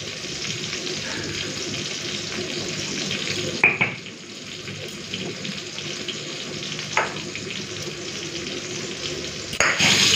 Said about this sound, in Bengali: পটলটা তো লাল করে ভেজে নিয়েছি